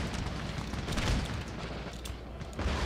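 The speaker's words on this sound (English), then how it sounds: "Okay, damn it, we got more artillery." Distant artillery from a Darthmod Empire battle rumbles as a low, steady booming wash, faint and continuous with a slightly stronger thump near the end, no voices.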